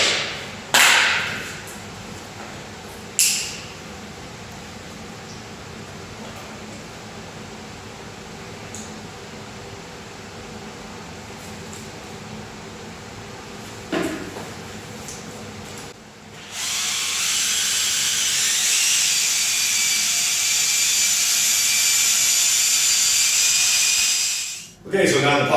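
Two-part epoxy floor coating being machine-mixed, part A into part B, with a power mixer whirring loudly and steadily through the last third after quieter handling noises and brief knocks.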